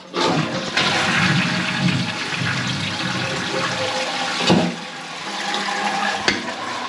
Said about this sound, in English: We just make sure there's no leaks on the back, and then we'll give it a flush.